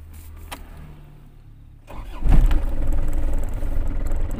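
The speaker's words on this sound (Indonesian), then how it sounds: "Ini sudah saya nyalakan mobilnya." An Isuzu Panther engine cranks briefly and catches, then settles into a loud, steady, close-up idle rumble.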